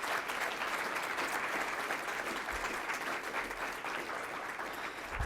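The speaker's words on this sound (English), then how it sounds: "Let's give them a round of applause one more time" Sustained applause from a seminar audience as the speakers on Ohio's role in the global supply chain are thanked, a steady dense wash of clapping from start to finish with no voices over it.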